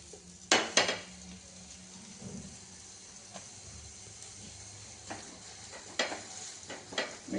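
Brinjal slices laid into a pan with a little oil, giving a low steady sizzle with a few sharp clatters of utensil against the pan near the start and again toward the end.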